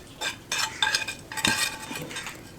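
Cooled sautéed onion and garlic spooned into a steel mixer jar, with repeated scraping clinks of a spoon against metal in a close, busy series of short bursts, no talking.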